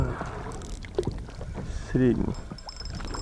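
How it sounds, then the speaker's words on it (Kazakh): A rowboat moves on water during a pike and eel fishing trip, heading down toward a pier, with soft water and hull sounds under close, ongoing talk. "Қайықпен түсіп енді пристаға."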